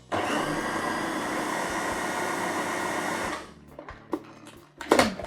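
A food processor blends chickpea hummus in a loud, steady motor whir for about three seconds, then shuts off, leaving a few scattered knocks and clatters.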